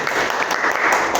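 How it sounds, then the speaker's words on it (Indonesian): Classroom applause for a student group, a short burst of steady clapping from several people, heard alone. "tepuk tangan untuk kelompok 1"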